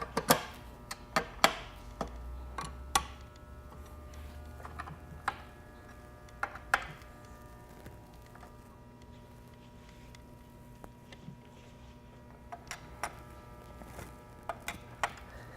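Wrench turning 10mm bolts on a motorcycle being prepared for racing, with scattered sharp metallic ticks and ratchet clicks in short clusters over a quiet background, fairly close, no talk.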